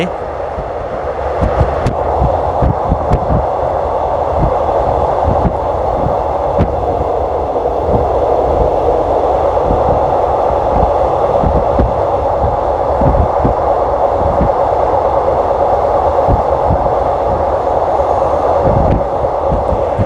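Inside a train running from Krung Thep Aphiwat Central station toward Don Mueang, a loud, steady rumble fills the cabin, with rhythmic wheel clacks ticking through it the whole way.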